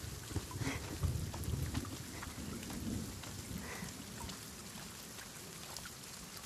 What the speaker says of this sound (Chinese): 这天怎么说下雨就下雨啊？